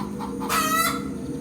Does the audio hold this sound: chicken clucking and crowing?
yes